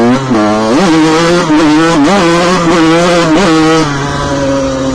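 A 1988 enduro motorcycle rated at 42.5 horsepower and 98 kg revs hard, its loud, close engine note climbing and dropping in several quick throttle blips before settling to a rough idle.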